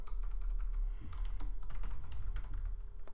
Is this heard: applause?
no